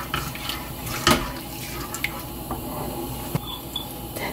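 Water poured from a soju glass into a pot of sauce for Korean boneless chicken gangjeong, a close, wet splashing and gurgling with a few clinks against the pot.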